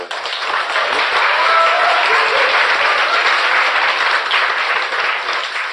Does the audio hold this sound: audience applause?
yes